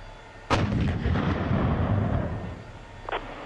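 An M1 tank's main gun firing in the DCS combat simulator, one sudden heavy boom with a long rumbling decay lasting about two seconds, followed by a short, fainter mechanical clank.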